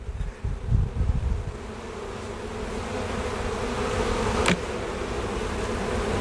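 Honey bees at an open hive that is doing poorly make a close, continuous buzz, with a few louder handling bumps near the start and one brief sharp click partway through.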